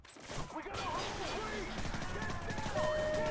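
Gunfire in Call of Duty Modern Warfare, a steady rattle of shots under a dense game soundscape with a whining tone, while a voice talks.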